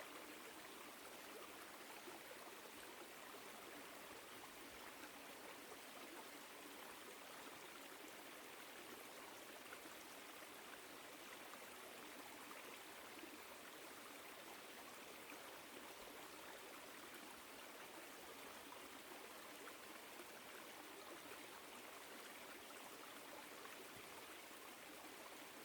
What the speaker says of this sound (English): maybe you can notice different tones or notes within the sound of the water